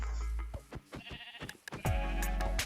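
Sheep in a Minecraft-style video game bleat several times in quick succession, loud and close, with short wavering calls that end in a longer, stronger bleat.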